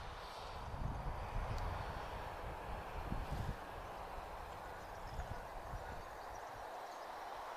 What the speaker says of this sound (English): Oh, I can hear a takeoff